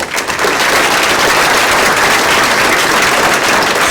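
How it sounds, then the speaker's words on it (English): A crowd applauds at a school grand opening ceremony, a dense, steady clapping that holds at the same strength for the whole few seconds with no voices above it. "big round of applause for what you've done with AIC."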